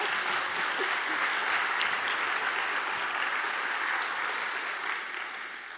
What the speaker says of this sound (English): I heard some applause starting